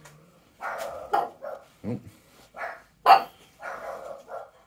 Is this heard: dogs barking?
yes